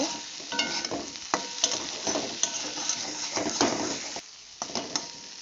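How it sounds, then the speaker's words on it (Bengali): A spiced potato mixture stirred in a pan, repeated scraping and clinking strokes of a spoon against metal over a low sizzle, close and fairly even, with a brief pause near the end. "আপনারা এইভাবে নাড়তে থাকবেন"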